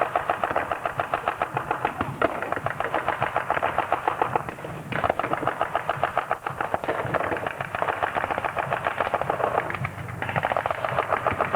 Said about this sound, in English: now he's operating the Americans' own machine gun against them